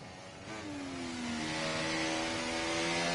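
Onboard engine of a Williams Formula 1 car in the racing game F1 24, a high-pitched engine note rising steadily as the car accelerates, close and growing louder.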